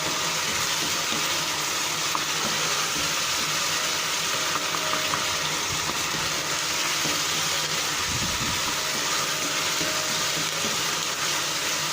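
Bread halwa with cashews and raisins is stirred in a hot pan, producing a steady close sizzle with occasional soft scraping from the stirring.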